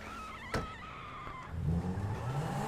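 A car in the GTA video game gives off a steady engine rumble that swells as it drives away. A sharp knock comes first. The sound is moderately loud and heard alone, with no talking.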